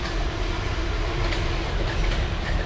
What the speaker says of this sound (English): You can see the train maybe.